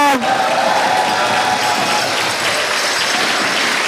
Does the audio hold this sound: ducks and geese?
no